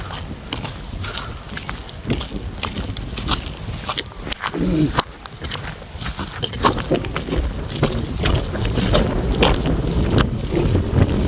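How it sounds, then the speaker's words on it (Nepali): Wind gusts buffet the microphone in a continuous rough rush, with scattered thumps and rustles, loud and close throughout, on a jungle riverbank in Malaysia. "हावा पनि मिठो चलिरहेछ"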